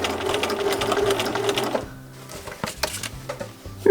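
A sewing machine runs in a fast, steady stitching rattle that stops partway, followed by scattered clicks and light handling noises with a small bobbin problem.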